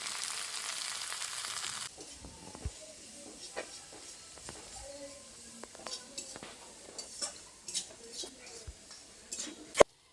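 Spice paste of ground cumin, black cumin, chili paste, tomatoes, turmeric and salt frying in a pan, a steady sizzle that drops after two seconds into softer crackling with scattered stirring scrapes and clinks, with some faint voice.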